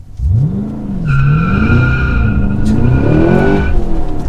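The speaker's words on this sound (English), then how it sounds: "We'll leave you guys with one more launch control because, well, why not?" A 2022 Cadillac CT5-V Blackwing with a manual gearbox makes a launch-control start, its loud V8 exhaust revving up, bogging at the shift and pulling hard again, with a brief tire chirp.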